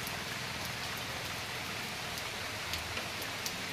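Steady rain falling, a dense even hiss of drops on surfaces with a few louder nearby drips, continuous and unbroken with no voices.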